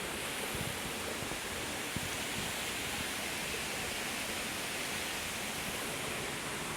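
A small stream of water runs beside a pool, a constant dense rushing wash heard up close with no voices.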